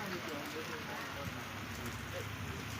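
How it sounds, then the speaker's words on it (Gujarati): Rain beginning to fall outside a shop, the steady patter of drops on surfaces making a dense, even hiss close by for the whole moment, with no voice over it. "જોઈ લ્યો વરસાદ ચાલુ થઈ ગયો"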